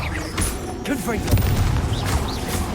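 Blasts of a Confringo explosion spell cast in a wizard video game, several booming bursts mixed with game effects and a voice shouting over them.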